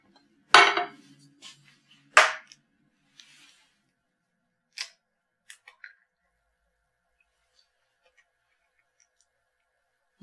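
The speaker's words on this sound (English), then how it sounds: "So I need to separate my egg." A hen's egg cracks sharply against a hard edge in a quiet kitchen, followed by the shell being pulled apart and a few light taps and clicks as the yolk is separated from the white, with long silent pauses between.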